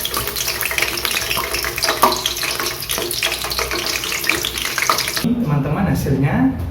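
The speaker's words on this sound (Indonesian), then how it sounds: "Nah, sekarang kita goreng ikan pindangnya teman-teman." Pindang fish sizzles in hot oil as a home cook makes sambal, with a loud, continuous crackling hiss that shifts near the end to lower, bubbling spatters.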